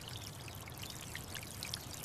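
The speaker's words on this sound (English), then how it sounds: "Now we water the plants slowly." Water pours steadily from a watering can onto plants, a soft continuous trickle and splash with faint droplet sounds, quiet and alone.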